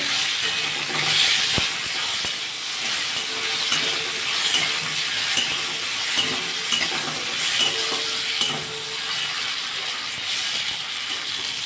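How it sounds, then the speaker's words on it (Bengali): Tomatoes with black cumin frying in a pan for a Bengali dish, a steady close sizzle and hiss with occasional stirring scrapes and clinks throughout, no voices. "টমেটো একটু ভেজে নেবো"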